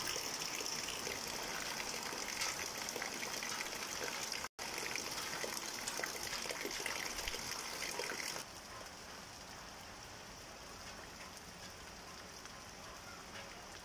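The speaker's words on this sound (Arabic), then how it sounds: "أسأل الله أن يجعلها مطر خير وبركة" Steady rain falls outdoors beneath a cloudy sky, making a continuous soft hiss of drops on surfaces that stays even and fairly quiet. There is one brief cutout, after which the level drops slightly.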